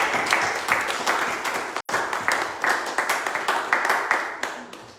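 A church congregation claps together during a Sunday worship service, a dense, steady patter of many hands with a brief dip partway through, fairly close and continuous for the whole stretch.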